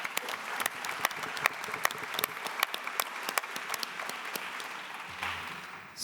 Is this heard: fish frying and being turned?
no